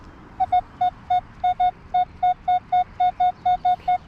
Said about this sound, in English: this has been the next sort of like notable signal to actually show you guys